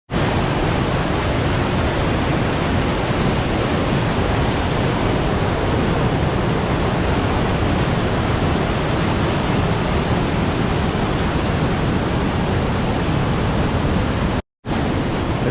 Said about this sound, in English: this is some kind of like double waterfall with this rock spine in between them